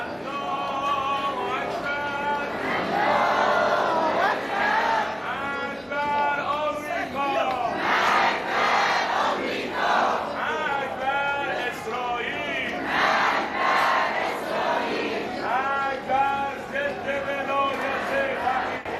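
Large crowds gather at the funerals of Ayatollah Ali Khamenei in Qom and Tehran, a roaring mass of voices with rhythmic chanting and shouting rising and falling throughout.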